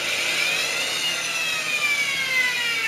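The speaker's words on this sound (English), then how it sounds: "This is the router here" The router on a copy carver cuts wood with a continuous high whine, close and steady for a few seconds, with its pitch wavering slightly as it moves through the cut.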